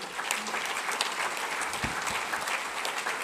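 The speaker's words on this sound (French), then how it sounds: "vous pouvez également les applaudir" An audience claps at a French agricultural merit award ceremony indoors, giving sustained, dense, even applause throughout.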